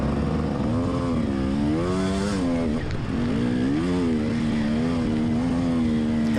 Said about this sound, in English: But then I got to get off the bike. I'm just spinning tire